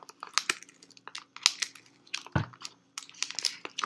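Crinkly plastic wrapper of a B-Up protein bar being torn and peeled open by hand, a close run of sharp crackles and rustles in irregular bursts with brief pauses.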